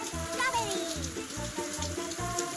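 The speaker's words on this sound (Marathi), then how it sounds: "किती जबरदस्त पाऊस पडतोय" Heavy first monsoon rain falls in Mumbai as a soft, constant hiss, heard faintly beneath a rhythmic low thumping pattern and possible voices.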